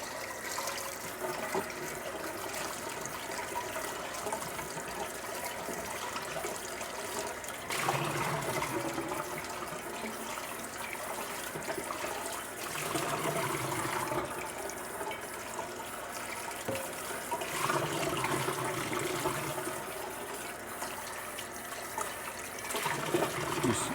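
Steady hot water runs from a tap into a sink while rinsing cast iron pots, continuous and fairly close, with slight surges in flow and no talking.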